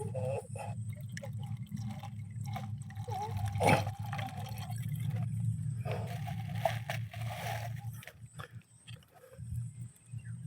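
Water trickles and drips from a freshly cut banana tree trunk outdoors, a faint irregular dribble with a sharp louder knock partway through and soft rustling around it.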